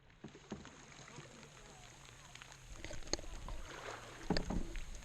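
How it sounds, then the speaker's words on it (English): Canoe paddling along water through a canyon in Algonquin Park in summer, with soft splashes and knocks of paddle strokes over steady wind and water noise, growing a little louder toward the end, no talking. "we are paddling through the canyon"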